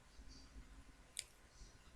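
A single sharp computer mouse click at close range, made while selecting a cell in an Excel spreadsheet, standing out briefly against a quiet room hum.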